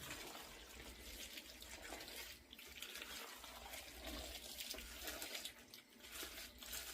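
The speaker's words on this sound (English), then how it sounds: "Gotta rinse that out." Tap water runs steadily into a sink while something is rinsed out in a home kitchen during mayonnaise-based deviled egg and mac salad preparation, a continuous splashing hiss with no talking.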